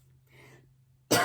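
A single sharp cough bursts out close by after a soft breath, loud and brief against a low steady hum.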